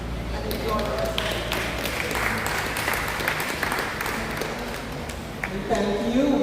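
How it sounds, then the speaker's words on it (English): An audience claps at a cancer society's annual general meeting, a steady crackling of applause running beneath a speaker's amplified voice. "Can you give her another round of applause?"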